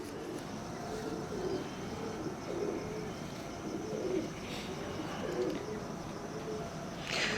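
Grey pigeons coo in soft repeated rounds, close by, over a steady low background hum.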